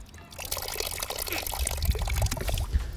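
Water sputters and trickles back out through a LifeStraw personal water filter as air is blown through it, a brief close wet gurgle and splash.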